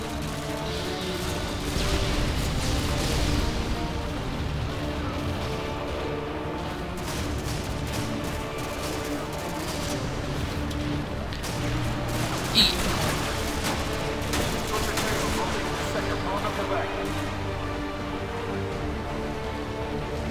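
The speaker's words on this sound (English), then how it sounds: "Frag out." Gunfire and grenade blasts from the Call of Duty Modern Warfare 2 campaign, a dense, continuous barrage of shots and crashes with one sharp burst standing out, mixed with game voices.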